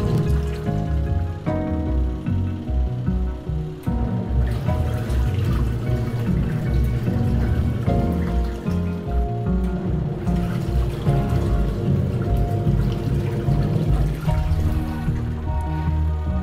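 An Onida Liliput compact washing machine runs after being switched on, with water pouring and trickling in steadily and continuously for the whole stretch, a dense churning wash at constant loudness with no talking.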